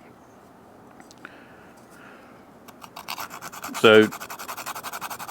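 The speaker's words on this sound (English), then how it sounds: "just scrape it on the grater, tap it a little bit" Whole nutmeg scraped on a grater for banana bread, a quiet start followed by a run of rhythmic rasping strokes and a sharp tap against the grater, with a brief spoken word.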